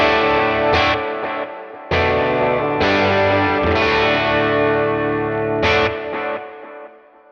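Electric guitar played through a guitar amp-replacement plugin with delay and reverb applied, sustained chords struck several times, each ringing out with lingering echoed tails that fade slowly at the end.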